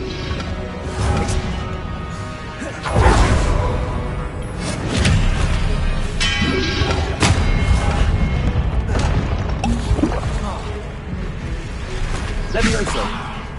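Confringo spell blasts in Hogwarts Legacy video game on PS5: several loud booming explosions with whooshes and crashes amid ongoing combat noise, a voice calling out spells in between.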